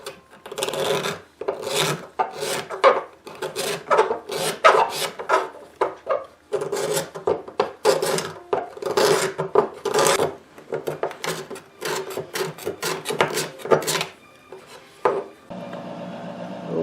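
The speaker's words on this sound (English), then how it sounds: "I'll clean that up with scrapers and chisels and give it a nice smooth finish" Rapid, repeated rasping strokes of scrapers and chisels scrape across an ebony archtop guitar tailpiece, loud and close, in uneven bursts with short pauses between them.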